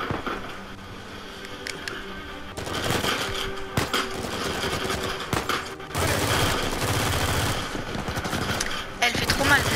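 Dense weapon fire in Uncharted 4, continuous crackling bursts and sharp reports building through the stretch, layered with game noise and a voice speaking French at moments.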